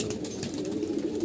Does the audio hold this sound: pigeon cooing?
yes